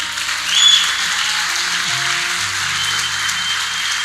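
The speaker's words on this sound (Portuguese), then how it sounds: "Então, vamos aplaudir nosso Deus então." A church congregation applauds during a sermon, a broad steady wash of clapping sustained for about four seconds with no break, a low organ or keyboard tone humming underneath.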